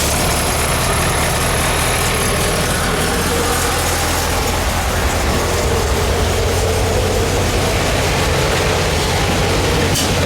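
A VW double cab engine cold-starting, its starter cranked through temporary wires: a loud, steady engine drone holds close and constant the whole time, with no clear break between cranking and running.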